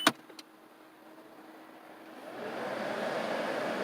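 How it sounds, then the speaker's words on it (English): A sharp click is followed by a quiet lull, then the petrol engine of a 2007 Toyota Prius starts on its own and settles into a steady, moderately loud running rumble. "the car just started up"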